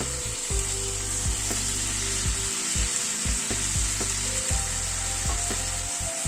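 Sliced ridge gourd sizzles steadily in a hot pan, with a spatula scraping and stirring through it in irregular strokes, close and continuous, no voices.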